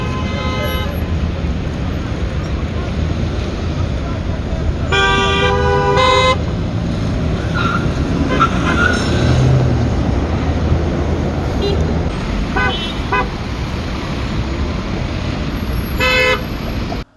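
Heavy traffic jam in Bucharest with repeated car horns honking, several sharp toots and longer blasts over a constant roar of road noise and idling engines, loud and close throughout.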